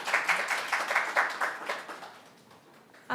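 Audience at a student sustainability conference in Seoul clapping to welcome a speaker, a moderate wash of applause from a modest crowd that tapers off over a few seconds.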